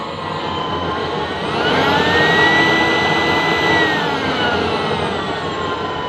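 A homemade burner on test fire, turned up high, roaring loud and steady with a rising whine that swells in the middle and then eases back, with no voices.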